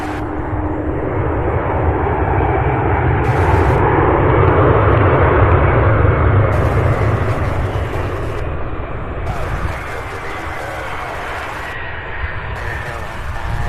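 A heavy Boeing 767 jet on approach near Louisville International Airport, with a loud, sustained engine roar that swells in the middle and then eases off, while radio chatter cuts in and out over it.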